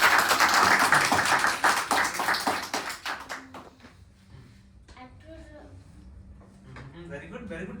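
A group of students clapping together in a classroom during a group discussion on technology, a loud burst of dense applause that tapers off into scattered claps, followed by people talking.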